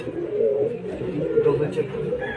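Pigeons coo at a loft in the Philippines during a bird arrival from Vigan, Ilocos Sur, a low steady cooing running through the whole short stretch, fairly close, with background activity.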